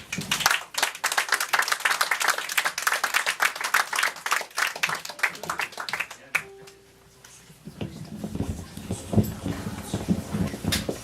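An audience claps for a singer at an evening recital with piano accompaniment, dense loud applause that breaks off after about six seconds, followed by a brief tone and then someone speaking into a microphone.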